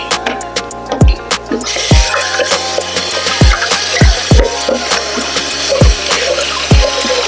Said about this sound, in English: Wash this bowl out.